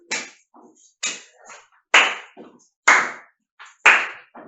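Hand clapping during a children's modern dance lesson, five sharp, evenly spaced claps about one second apart, each followed by softer patter, close and clear with no talk over them.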